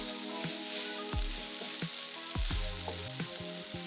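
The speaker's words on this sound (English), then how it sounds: "But they're going to do most of their cooking while we saute them." Shrimp sautéing in a pan make a close sizzle that rises and falls with stirring, while a few scraping and tonal kitchen sounds cut in over the short stretch.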